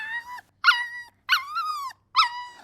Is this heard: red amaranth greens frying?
no